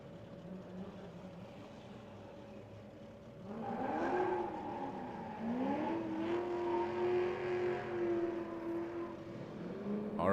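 Drift cars battle at a Formula D pro-am drift competition at Lake Erie Speedway, one an FRS, engines revving and whining loudly with rising and falling pitch as they slide, over a steady crowd and track din.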